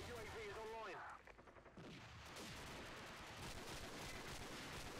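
M14 rifle fire in Call of Duty 4, a dense stream of sharp, crackling shots running steadily through the second half after a brief spoken voice at the start.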